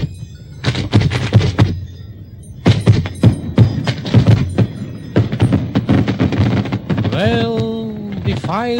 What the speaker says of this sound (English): Fireworks are over.